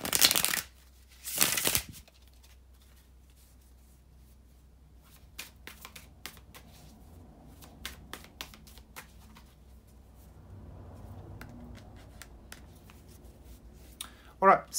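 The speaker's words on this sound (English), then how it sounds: "bear with me just a couple of seconds, guys, to shuffle the tarot cards" Tarot cards being shuffled by hand, two brisk riffling bursts up front followed by quieter scattered taps and card handling, close and alone.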